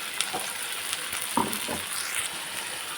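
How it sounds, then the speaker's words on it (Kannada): Ground tomato paste for egg curry goes into a hot pan, giving a steady close sizzle and frying hiss with a few brief clatters and stirring sounds, no voices. "ಇವಾಗ ಇದಕ್ಕೆ ನಾನು ರುಬ್ಬಿದ್ವಲ್ಲ ಟೊಮೊಟೊನ ಪೇಸ್ಟ್ನ ಇದಕ್ಕೆ ಸೇರಿಸ್ತಾ ಇದ್ದೀನಿ"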